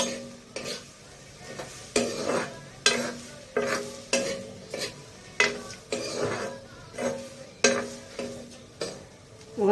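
Food being stirred in a pan, a spoon scraping in regular rhythmic strokes about once a second over a faint background sizzle, close and clear with no speech.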